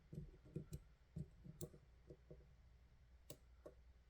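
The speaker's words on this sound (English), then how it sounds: "now I got a click from 10 again and a slight movement of the plug" Small sharp clicks from pins inside a Ruko Garant Plus dimple lock being picked, a handful of faint, quiet ticks spaced irregularly over a low background hiss with no talking.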